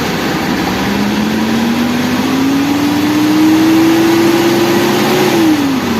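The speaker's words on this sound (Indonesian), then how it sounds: "Ini kita sambil coba gas-gas dan perhatikan sirkulasinya." Car engine revved repeatedly during a radiator coolant flush and bleed, rising steadily in pitch then dropping back, loud and close with no talk.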